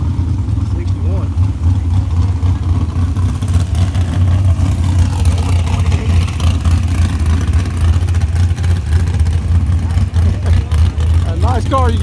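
A 1961 Ford Starliner engine runs steadily at idle, a loud, close low rumble that holds even throughout, with a slight rise near the end and voices talking over it.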